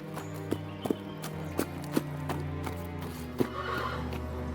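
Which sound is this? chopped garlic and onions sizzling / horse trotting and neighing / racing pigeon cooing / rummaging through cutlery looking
horse trotting and neighing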